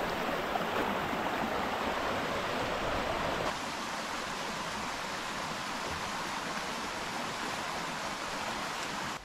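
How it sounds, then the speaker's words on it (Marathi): A small forest stream on the trail to a waterfall near Badlapur, a continuous soft rushing and trickling of water, fairly faint and steady throughout with no voices. "पुढे हा छोटासा ओहोळ लागला"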